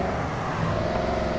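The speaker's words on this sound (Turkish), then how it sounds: "Örneğin şöyle bir gaza basalım." Car accelerating in GoreBox video game, a loud continuous engine roar throughout a brief burst with no speech.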